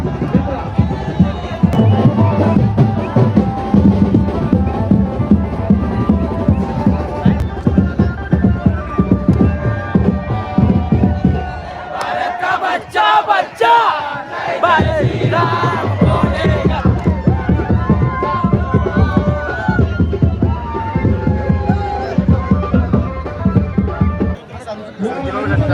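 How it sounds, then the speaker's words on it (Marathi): A large, dense crowd at a palkhi procession fills the clip with loud, continuous close chatter, shouts and rhythmic noise, dipping briefly midway before surging back, with people talking throughout. "खूप गर्दी आहे मित्रांनो."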